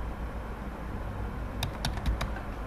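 A short burst of keystrokes on a computer keyboard while a password is entered, several quick taps clustered together over a steady low room hum, no talking.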